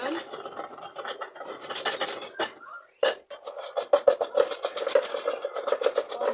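Onion scraped over a kitchen grater in quick rasping strokes, close up, with a brief pause midway before the grating resumes at a steady pace.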